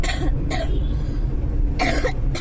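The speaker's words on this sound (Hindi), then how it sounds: "इसको उर्दू में कहते हैं खांसी और इंग्लिश में कहते हैं कफ" Rough coughs come in short bursts, two quick ones and then two more after a gap, loud and close over a steady background hum.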